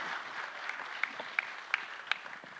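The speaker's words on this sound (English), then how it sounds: "Please give her a big round of applause." Applause from a conference audience, steady clapping throughout with a few sharper, louder claps standing out near the middle.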